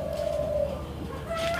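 A tekukur dove coos in short, soft, low tones over steady background hiss, one call early and another near the end, heard alone without talk.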